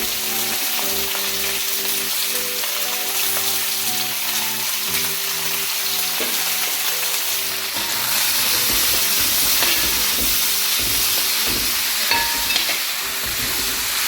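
Onions sautéing in a pan for chicken curry, a steady loud sizzle and hiss of frying with occasional stirring scrapes, continuous throughout with no talking.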